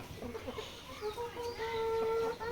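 Chicks and hens of mixed poultry breeds, including desi, Sonali, broiler and Fayoumi, chirp and cluck at a chick seller's stall, with high peeping calls rising over a busy background and growing louder toward the end.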